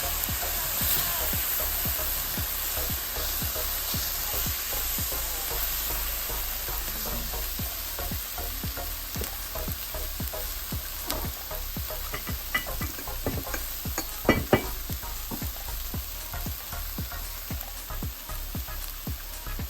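Canned chickpeas tipped into a pan of curry, setting off a steady, loud sizzle and frying hiss with scraping stirs throughout and a couple of sharper clatters near the middle, no voices.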